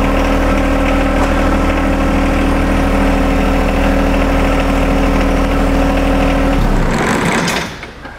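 A compact tractor engine running at a loud, steady idle with a constant low drone, then abruptly cutting out near the end as the noise drops away.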